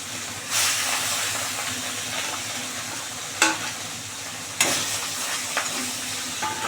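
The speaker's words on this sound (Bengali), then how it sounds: "এবার এটাও দিয়ে দিই, আরও তিন পিস ভালো করে ভেজে নিই।" Pieces of rohu fish fry in hot oil with a loud, continuous sizzle and hiss, broken by a few sharp clinks and scrapes from stirring, close up and without voices.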